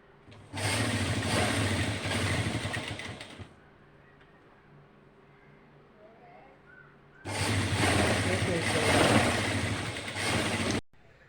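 Sewing machine stitching the neckline of a nighty, two sustained runs of steady, close mechanical whirring separated by a quiet pause, the second run stopping abruptly.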